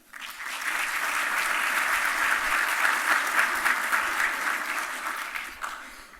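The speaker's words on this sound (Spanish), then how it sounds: "Un aplauso, por favor." Sustained applause from a crowd, steady and fairly loud, rising quickly and holding for several seconds before tapering off at the end.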